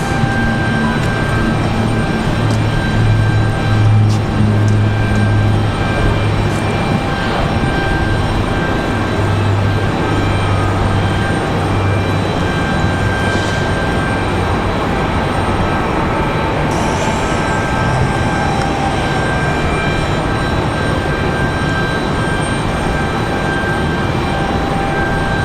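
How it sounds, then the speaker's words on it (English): A JetBlue Airbus A220 airliner rolls down the runway to a stop at Raleigh-Durham airport on a windy day, a loud, steady roar and rumble heard from nearby, with a constant tonal whine over it. "JetBlue going to come to a stop right here at the end on the runway."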